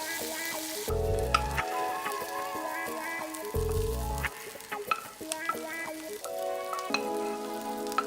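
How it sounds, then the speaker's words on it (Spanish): Oil, garlic and onion sizzle and crackle in a frying pan for Mexican tortilla soup, a steady hiss with scattered pops running beneath tuneful background music. "Cocina el aceite y ajo y la cebolla en el sartén por 10 minutos."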